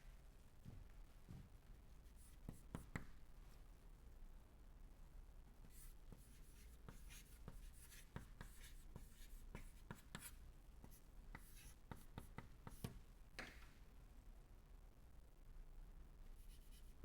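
Chalk or pen scratching on paper or a board during a fluid mechanics lecture, a run of short strokes with brief pauses, fairly quiet and steady, with no talking over it.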